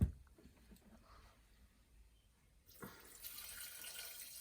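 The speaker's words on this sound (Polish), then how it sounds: "teraz dajemy tak 800 gram wody" Quiet room tone gives way to a soft, steady rush of about 800 grams of water pouring into a Thermomix TM6 bowl, fairly faint.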